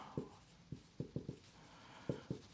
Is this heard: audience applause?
no